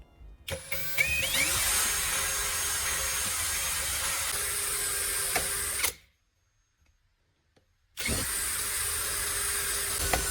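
Continuous whirring hand drill grinding holes through a thin tin can, loud and close, stopping abruptly for about two seconds of silence before starting up again.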